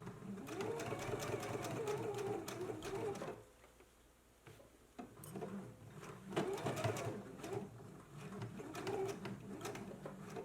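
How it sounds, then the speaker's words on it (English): A sewing machine basting the welt of a jacket, running steadily with a short pause partway through. Birds coo faintly in the background, and the recording is quiet overall. "Let's go ahead and baste right here between these large circles."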